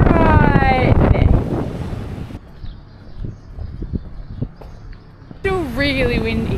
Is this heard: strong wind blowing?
yes